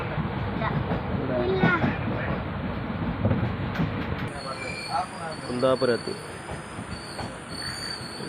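A train rumbling along the rails from Kerala to Mumbai, a nearly empty carriage, with a steady low roar and occasional wheel squeals, and a brief spoken word over the noise.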